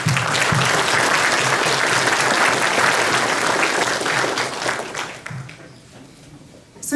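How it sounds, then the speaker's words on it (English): Audience at a Hmong community event in Merced clapping in a dense burst of applause that holds steady for several seconds, then thins out and fades near the end. "let's give a round of applause for everyone who made this happen"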